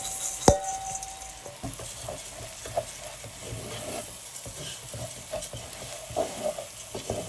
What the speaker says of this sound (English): the rice, because we are going to fry that.